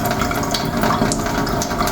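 Water from a household water purifier pours steadily into a container, a loud continuous rushing fill with no talk over it.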